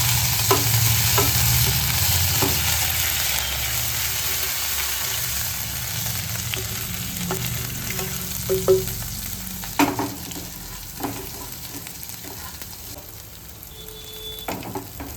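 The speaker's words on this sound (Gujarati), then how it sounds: "રાઈ ચતરી જાય એટલે આપણે આદુની પેસ્ટ નાખી દઈશું" Ginger paste frying in hot oil with crackling mustard seeds for Navsari street-style pav batata, a steady close sizzle with scattered pops and stirring scrapes.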